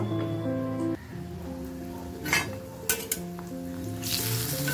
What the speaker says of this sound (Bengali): আর এই দেখো বেগুন ভাজি হচ্ছে, কুমড়ো ভাজি হচ্ছে, সমস্ত ভাজি হচ্ছে।